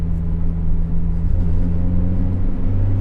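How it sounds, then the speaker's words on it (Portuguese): Chevrolet Tracker 2.0 16V turbo engine idling with a steady low rumble, its pitch stepping up as throttle pulses raise the revs, close and continuous with no talk. "a gente vai testar os transientes do motor, né? A variação rápida de carga, dando alguns pulsos no acelerador"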